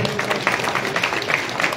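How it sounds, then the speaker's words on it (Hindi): Crowd clapping in welcome at a BJP election gathering at a Rajput chaupal in Kalayat, a thick, continuous patter of many hands at close, loud range throughout. "ताली बजा के मान सम्मान करो भाई"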